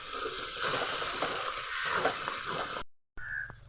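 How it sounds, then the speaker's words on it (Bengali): Ground spices for egg biryani sizzling and frying in a pan while being stirred, a steady, close hiss that cuts off abruptly near the end before a quieter tail. "মশলাগুলো দিয়ে ভালো করে কষিয়ে নেব।"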